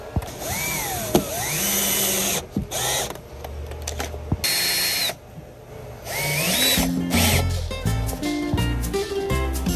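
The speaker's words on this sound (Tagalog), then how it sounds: "pwede natin lagyan ng screw at higpitan ng ating backboard brace" A power drill drives a screw into the backboard brace of a Sanyang 108124 wardrobe cabinet, giving loud, close bursts of whirring motor whine that rise and fall in pitch, broken by short pauses and mechanical clicks.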